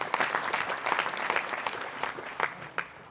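Enthusiastic applause from a town hall crowd at a business gathering, continuous clapping with some sharp individual claps standing out over about three seconds.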